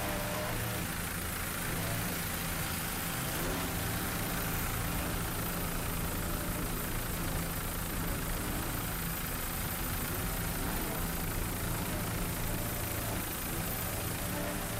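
A 29-foot Fountain powerboat with a single 500 hp Mercury inboard racing offshore at Daytona Beach gives a loud, steady, unbroken engine roar that holds for the whole stretch, with no voices over it.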